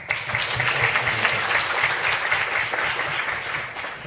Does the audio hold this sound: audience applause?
yes